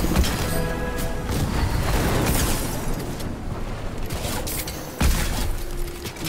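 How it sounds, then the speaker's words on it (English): Gunfire erupts in Fortnite as a loud, dense run of shots and booms, with a few sharper cracks near the end. "Who's shooting? Who's shooting?"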